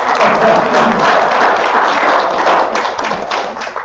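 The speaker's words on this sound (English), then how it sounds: "Let's clap for it anyhow." An audience at a spiritual community service claps together, a full steady patter of many hands lasting a few seconds and fading slightly at the close.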